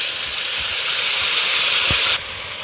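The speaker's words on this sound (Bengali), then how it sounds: "কাজু বাদাম টমেটোর পেস্টটা আমি দিয়ে দিলাম" Cashew and tomato paste sizzles in a hot pan with cinnamon, cardamom and whole cumin, a steady loud frying hiss that runs on evenly before dropping slightly near the end.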